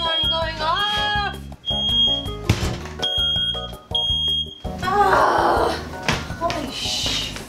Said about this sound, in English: Why is the fire alarm going off?